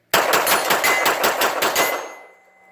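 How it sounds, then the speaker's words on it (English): A CZ Shadow 2 pistol fires about ten rapid, evenly spaced shots at a steel target about 20 yards away. The reports are loud and close, and a ringing tail fades after the last shot. "I'll try not to flinch too much, just shoot a bunch of times fast."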